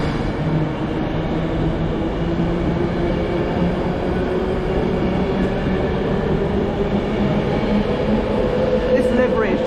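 An Avanti West Coast Pendolino train in Pride livery passes at Preston station, a loud continuous rumble and rolling wheel noise with a steady tonal hum, close and sustained throughout.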